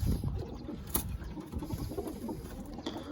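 Low pigeon cooing murmurs close by in soft, repeated phrases, with a couple of brief sharper noises mixed in.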